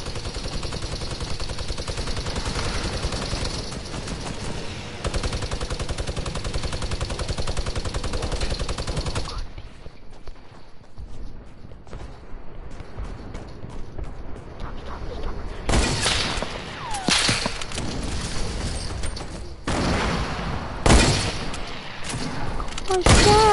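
Gunfire in a Fortnite match: dense, continuous bursts of shots fill the first stretch, then quieter gameplay follows with scattered loud single shots and booms, while a player talks at times.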